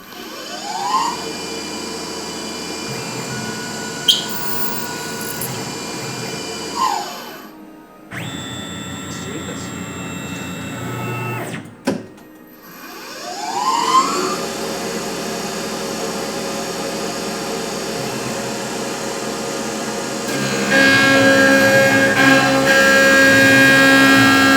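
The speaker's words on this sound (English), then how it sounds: "Let's machine some blades." A machine cuts knife blades in a workshop with loud whining spindle tones that rise and fall as cuts start and stop, broken by brief pauses and sharp clicks, ending in a steady louder run.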